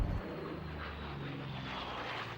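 A P-51 Mustang propeller aircraft flies with other planes at the Duxford Flying Legends airshow, its engine a steady, loud droning roar throughout with no voices.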